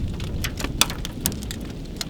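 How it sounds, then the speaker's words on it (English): Hail falls outdoors as a dense, steady patter of hard hits with a few sharper, louder impacts standing out, fairly close, with no talking. "Hey, it's hailing."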